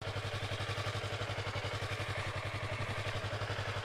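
A Yamaha motorcycle, a small bike, with its engine running in a steady rapid pulsing throb, fairly low in level and even throughout, while one brief spoken word is heard.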